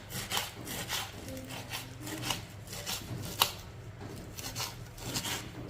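Knife cutting soft young manathakkali keerai spinach greens on a board in an outdoor village kitchen, a steady stream of close, scraping, rubbing chops without a clear beat and no voices.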